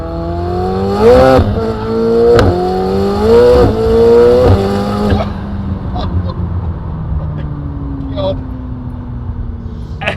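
Rebuilt high-power McLaren 720S engine winds up on the road through several quick gear pulls, rising revs broken by sharp shift cracks, then eases off to a lower steady drone with faint voices in the cabin.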